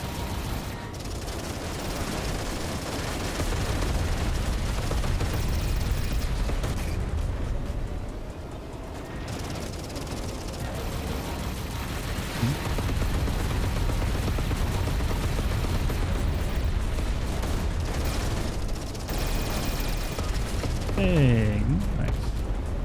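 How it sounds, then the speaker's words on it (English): Rocket explosions and gunfire from the space-combat game Everspace 2 form a dense, continuous barrage of blasts and rapid shots, loud throughout with a few heavier booms near the end. "did the rocket explosion sound get tweaked?"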